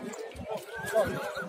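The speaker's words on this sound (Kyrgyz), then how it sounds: "Мына бул кара аттагы турат бул жерде." A black horse at a horse bazaar lets out a brief whinny, close by, alongside nearby talking voices and a stamp or two of hooves.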